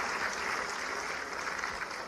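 An audience claps loudly and steadily at an official ceremony honouring athletes, a dense continuous burst of applause throughout.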